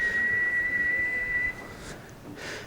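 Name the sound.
whistled Spanish language of Canary Islands shepherds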